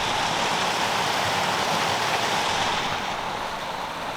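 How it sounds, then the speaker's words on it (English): Light rain falling outdoors on a riverside walk near woodland, a dense, steady hiss of drops that stays even and close throughout. "It's just started to rain here."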